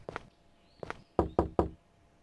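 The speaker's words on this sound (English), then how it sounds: "Let's go knock on the door even." Three sharp, close knocks in quick succession on a house door, preceded by a few softer taps; no talking.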